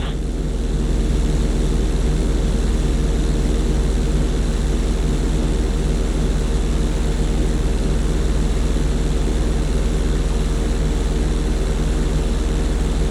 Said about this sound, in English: Hold the plane upside down for several seconds.